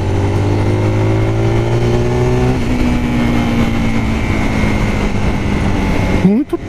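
Zontes R 350 motorcycle engine during a test ride at a launch event, a steady loud drone that shifts pitch partway through as it pulls, with rushing wind and a voice speaking over it.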